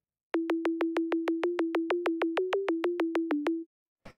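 A synthesizer sine wave, distorted, repeats as a steady string of about fifteen short, buzzy, even pulses at one pitch with a slight pitch wobble near the end, followed by a brief click.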